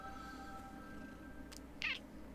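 A cat gives a single faint, brief meow near the end, over a quiet background hum with a couple of soft clicks before it.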